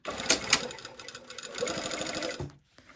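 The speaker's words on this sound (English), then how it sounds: "now we're going to sew all the way to the hem" Sewing machine stitching a dress seam down to the hem, a close, rapid mechanical whir with a few clunks at the start, running steadily before stopping abruptly near the end.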